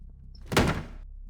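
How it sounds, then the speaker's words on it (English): A door slams shut in one sharp, loud thud that quickly fades, heard alone in a dark horror narration. "The door slammed shut directly in my face."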